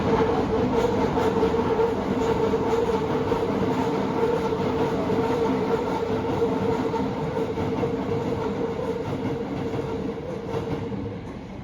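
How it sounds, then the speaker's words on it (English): Two trains pass each other in Yokohama, a loud continuous rumble of rail cars with rhythmic clatter that stays steady and close before easing slightly at the end. "I was lucky to see two trains cross at the same time."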